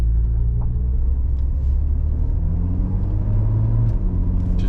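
Mercedes C36 AMG driving through the gears on a neighborhood cruise, a steady low engine rumble heard from inside the car with shifting pitch as it pulls.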